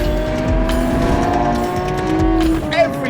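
A Lamborghini Aventador SVJ accelerates hard, its engine a loud, continuous, rising roar with harmonic whine and a brief shift or lift near the end, heard close up with no talk.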